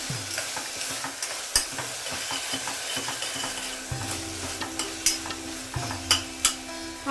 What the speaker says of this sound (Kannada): ಹಸಿಮೆಣಸಿನ್ಕಾಯಿ ಬೆಳ್ಳುಳ್ಳಿ ಹಸಿ ವಾಸನೆ ಹೋಗೋವರೆಗೂ ಹೀಗೆ ಬಾಡಿಸ್ಕೊಳ್ಳೋಣ ಸ್ವಲ್ಪ